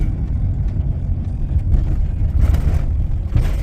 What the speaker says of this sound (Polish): No tu jest w prawo jakiś silnik.